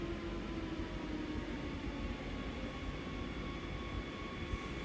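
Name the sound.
Talent 2 train in video game Train Sim World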